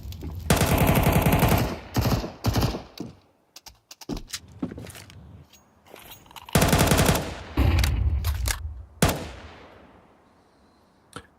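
Rapid pistol gunfire from Counter-Strike play, Glocks spammed in bursts: dense volleys of shots in the opening seconds, a scattered few, then another heavy burst and a final sharp crack, all loud and close with no talking.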